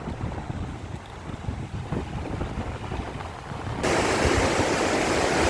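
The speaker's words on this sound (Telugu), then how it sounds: "ఉధృతంగా ప్రవహిస్తున్నటువంటి గోదావరి ఒక్క గేటు మాత్రమే తెరిచారు." Loud, continuous roar of the Godavari river rushing through a single open gate of the Sadarmat barrage, with heavy wind buffeting the microphone, swelling to a fuller, brighter rush near the end.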